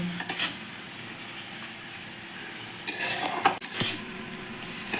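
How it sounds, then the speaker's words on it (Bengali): Spice masala is stir-fried in a pan with a steady soft sizzle, broken by a few sharp scrapes and clinks of a spatula against the pan, close and fairly quiet, with no talking. "এবার আমি মশলাটাকে ভালো করে কষিয়ে নেব"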